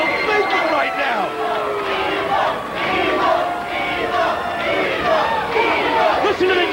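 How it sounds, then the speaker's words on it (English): A large wrestling crowd at the TNA Asylum arena chants and roars in a loud, sustained wall of voices, with rising calls and chatter throughout. "Listen to the chant. Evil, evil from the crowd here at the TNA Asylum."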